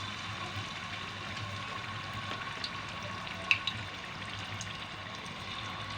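Chicken pieces fry steadily in hot cooking oil, a continuous even sizzle at moderate level with a few small pops, no voices.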